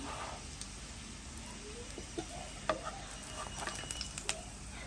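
Rotti fries in sesame oil in a pan, giving a faint, steady sizzle with scattered small pops and crackles and no voices.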